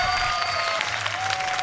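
A rodeo crowd applauds and cheers after a run, a broad, steady wash of clapping from a distant grandstand that holds level throughout, with an announcer talking over it.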